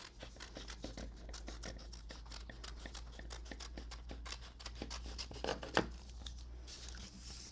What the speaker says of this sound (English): And now I'm just going to trim off this section.